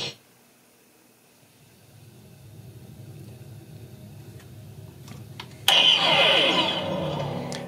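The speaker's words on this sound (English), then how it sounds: "just a power-up sound." Hasbro Ghostbusters proton pack wand fitted with a sound board plays a power-up effect: a quiet hum builds for several seconds, then a sudden bright electronic surge with a high whine rings out loudly near the end.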